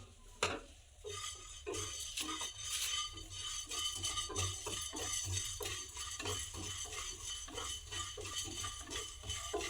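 Whole spices, including cinnamon and cardamom, are dry roasted in a kadai and stirred with a spatula, giving steady scraping and rattling with repeated knocks against the metal, close and moderately loud.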